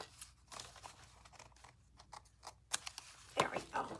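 Scissors cut paper for a bookbinding signature in a few short, crisp snips and rustles, close and fairly quiet with gaps between cuts.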